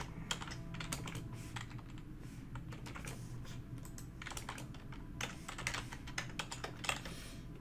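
Rapid typing on a computer keyboard entering Linux terminal commands, a close, steady clatter of keystrokes with bursts and brief pauses, no voices.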